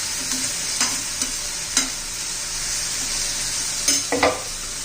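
Cluster bean curry stir-fried in a pan, a steady close sizzle broken by several sharp scrapes and clinks of a spoon stirring, with no talking.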